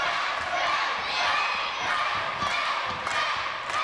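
Crowd at a live wrestling show reacting, a loud continuous wash of cheering and shouting with swelling surges and scattered thumps.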